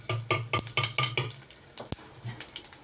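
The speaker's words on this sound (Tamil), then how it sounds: "நெய்யிலே போட்டு வறுத்துக்கலாம்." Coconut roasts in ghee while being stirred in a pan: a quick run of rhythmic scraping clatters from the spoon, then a few sparse taps, all fairly quiet and close.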